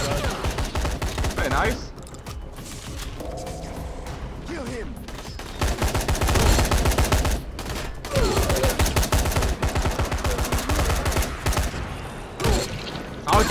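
Shotgun blasts in the zombie game Dying Light, rapid heavy shots and chaotic combat noise filling the stretch, loud and close, with players talking briefly over the action.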